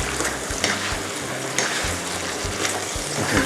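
Tomato and other ingredients stir-fried over high heat in a pan while the oil cooks down, a steady close sizzle broken by rhythmic scraping strokes of a spatula against the pan.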